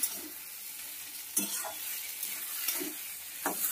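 Taro greens with hilsa fish head are stir-fried dry in a pan over medium gas, a soft sizzle with a few scraping strokes of the spoon.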